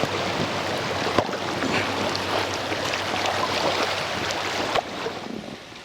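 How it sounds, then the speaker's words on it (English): Steady broadband rush of flowing river rapids heard from a kayak, continuous and fairly close with occasional splashes and knocks. "Well, I'm on the rapids."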